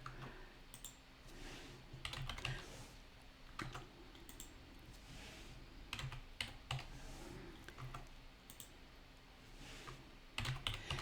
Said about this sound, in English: you notice I get quiet when I'm typing.